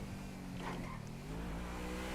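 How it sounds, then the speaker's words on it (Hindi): Trevor's fast car speeding along in GTA 5, its engine droning steadily with a brief rising whoosh or tire squeal partway through, continuous and fairly close. "ऊपर से ट्रेवर के हाथ में इतनी तेज गाड़ी"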